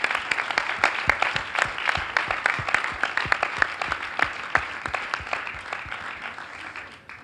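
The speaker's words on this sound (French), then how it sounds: "je crois qu'on peut encore les applaudir" A crowd claps steadily for several seconds, dense overlapping applause that gradually thins and fades toward the end.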